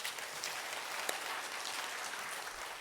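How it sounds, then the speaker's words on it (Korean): Faint, steady applause from a church congregation during a Korean sermon, soft continuous clapping heard from a distance. "우리 전도팀들을 위해서 또 한번 또 박수해 주세요"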